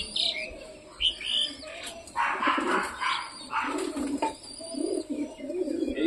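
Big house pigeons coo in low, throaty phrases close by, several calls overlapping with brief chirps in between over a few seconds.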